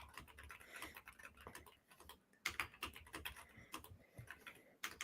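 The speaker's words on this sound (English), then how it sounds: "Let me type this in real quick." Computer keyboard typing, quick irregular clicking bursts of keystrokes, close but quiet, with brief pauses between runs and no talk.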